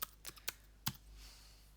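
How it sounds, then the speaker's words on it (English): Keystrokes on a computer keyboard entering a password, a handful of separate clicks in quick succession, close and fairly quiet, with no talking. "I'm obviously typing the same details into both of those."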